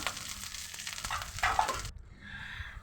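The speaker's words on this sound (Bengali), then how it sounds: "তারপরে আমি সব কিছু একটু খুন্তির সাহায্যে একটু নাড়াচাড়া করে হালকা করে ভেজে নেব" Green chilies, onion and garlic sizzle and crackle in hot oil for a fish roe curry, stirred with a spatula, steady close frying with scraping strokes before the sizzle drops to a softer hiss.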